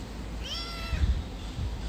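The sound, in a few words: cat meowing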